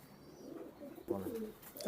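Soft, low pigeon cooing rises in the second half of a short stretch, close by, over faint background rustle.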